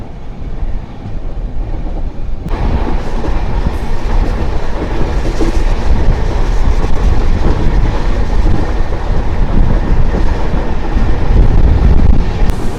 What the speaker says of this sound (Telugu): కొట్టాయం రైల్వే స్టేషన్ నుంచి కొద్దిగా ముందుగా మన ట్రైన్ కరువు తీసుకుంటుంది